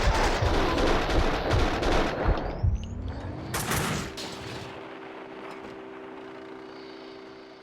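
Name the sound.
gunfire in video game Max Payne 2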